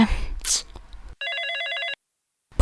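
A telephone rings once in a steady electronic trill lasting under a second, loud and clear after a burst of noise, then silence before another sound starts.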